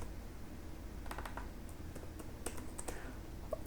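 Keys tapping on a computer keyboard in short irregular bursts of clicks, fairly faint against a steady low background hum, with no voices.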